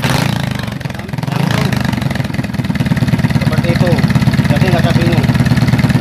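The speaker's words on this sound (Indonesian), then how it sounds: "Kita hidupkan motornya." A motorcycle engine, being worked on for a dead spark plug, starts and settles into a loud, close, steady idle with a rapid pulsing beat, while someone talks over it.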